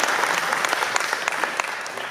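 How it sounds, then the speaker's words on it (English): A catering team from Mulligan's receives a round of audience applause at a luncheon: dense, steady clapping from many hands throughout, with sharper individual claps popping out of the wash. "Let's give them a round of applause."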